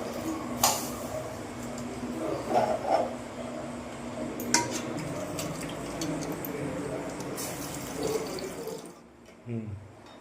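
Water and liquid splash into a pot of tamarind-based kara kuzhambu curry amid clinking utensils and pan handling, a steady wet pouring texture with brief clatters, ending in near silence.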